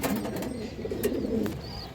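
A pigeon, an old-breed hen kept for sale, coos softly and steadily in a close low murmur with no talk over it.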